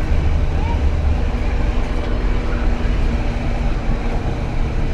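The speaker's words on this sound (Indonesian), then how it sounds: "Ini kenceng banget ngebut keretanya teman-teman." The executive-class KA Batara Kresna train runs fast between Wonogiri and Yogyakarta, heard from inside as a loud, steady rumbling roar with low hum and no break across the whole stretch.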